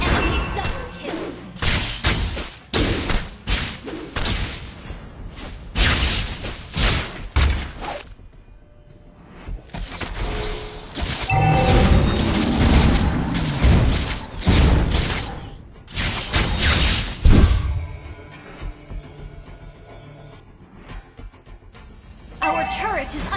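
A Mobile Legends battle with the Paquito hero in play, full of dense game effects: thumps, crashes and impact bursts layered with music, loud and continuous, with an announcer voice calling out events.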